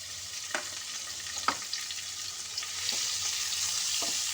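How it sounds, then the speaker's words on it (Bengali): Large chopped onion fries in a pan with a soft, steady sizzle, broken by a few sharp scraping stir clicks from a utensil, close and without speech. "তো এই পেঁয়াজটা দিয়ে আমি খুব ভালো করে ভেজে নেব।"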